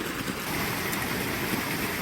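Continuous splashing water from a fountain with serpent spouts, near St. Michael's Cathedral in Kyiv, a steady hiss and patter close by with no voices.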